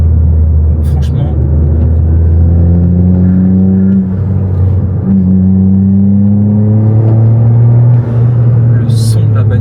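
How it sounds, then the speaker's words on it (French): A Toyota GR Yaris engine under way while driving, a loud, close, continuous drone with rising revs that climb, drop at gear changes and climb again, filling the whole stretch. "Le son de la bagnole est incroyable."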